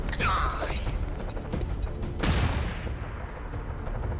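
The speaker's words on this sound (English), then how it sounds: "So let's flashbang him." A flashbang grenade going off in the video game Long War 2: mechanical clicks and a whooshing sweep, then a sharp broadband burst partway through that fades into a ringing, noisy tail.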